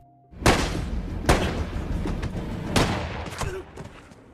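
Several loud gunshots crack out at irregular intervals, sharp and close, with a rumbling tail between shots and no speech.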